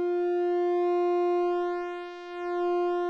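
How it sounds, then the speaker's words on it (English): Serge waveshaper synthesizer module holding a steady, thin, buzzy pulse-like tone, with faint harmonic sweeps shifting through it, clean and close with no voices. "Almost a thin pulse type sound there."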